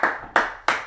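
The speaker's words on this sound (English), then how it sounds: "With the claps." Three sharp hand claps in an even rhythm, close and clear, each one ringing briefly before the next, during a solo jazz swing dance class.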